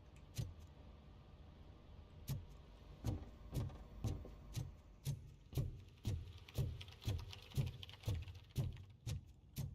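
Characters in RoboCop: Rogue City tapping on keyboards produce a steady run of soft clicks and clacks in a loose, irregular rhythm, quiet and nearby with faint room ambience.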